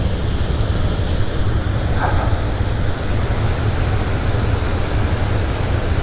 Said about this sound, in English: Yeah, that water's really flowing right now